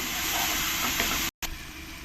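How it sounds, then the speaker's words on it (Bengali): Dried chili paste frying with spices in a hot pan, a loud continuous close sizzle and hiss that breaks off for an instant and then resumes. "শুকনো লঙ্কা পেস্টটাই দিয়ে দেবো দু চামচ দিয়ে ভালো করে আমি মশলার সঙ্গে কষিয়ে নেব"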